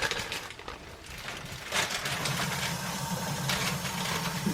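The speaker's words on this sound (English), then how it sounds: "It stops making coffee." Home coffee maker brewing in a kitchen, a steady gurgling hiss with a low hum near the end, loud and close, no talking over it.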